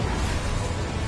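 Incendio fire spell going off in a Harry Potter video game: a dense, steady roaring whoosh with heavy low rumble, lasting about a second.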